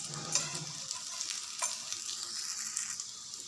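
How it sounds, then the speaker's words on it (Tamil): Veg curry roll toasting in butter in a pan gives a steady, soft sizzle with a few light clicks and scrapes, fairly close and continuous, with no voices. "ஒரு நிமிஷம் போல் நல்லா டோஸ்ட் பண்ணி எடுத்துடலாம்."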